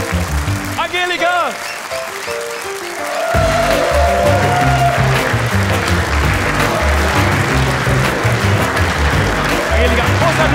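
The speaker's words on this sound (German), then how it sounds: "großer Applaus für Angelika!" A magic show audience breaks into loud, dense applause for Angelika after a trick, with a voice speaking first and the clapping swelling into a steady wash that continues under talk.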